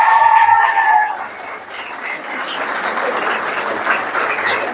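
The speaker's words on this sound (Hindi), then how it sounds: "जोरदार तालियों से स्वागत" An audience at a coaching institute's annual function in India claps loudly to welcome the institute's new name, a dense and sustained burst of applause with a faint tone at the start.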